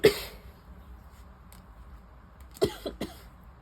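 A single harsh cough at the start, then near silence, followed by another short cluster of coughs, close to the listener.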